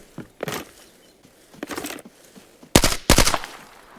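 Bursts of gunfire in the video game Arena Breakout: Infinite, a few scattered shots followed by two loud rapid volleys close together, with quiet gaps between.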